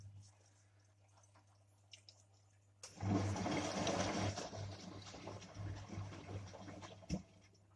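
A Whirlpool-made Polar PDT 411 washing machine on a delicate 40 cycle: after a quiet hum, a loud surge of churning, sloshing water starts as the drum turns in reverse, continuing steadily with a thump near the end.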